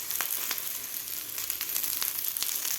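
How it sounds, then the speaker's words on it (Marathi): Okra (bhindi) frying in oil in a pan for lasooni bhendi, giving a steady, close crackling sizzle with bright spitting pops scattered throughout and no voices. "तेलामध्ये व्यवस्थित भेंडी फ्राय करून घेतलेली आहे"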